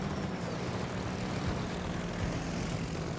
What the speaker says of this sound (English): Drop those airplanes.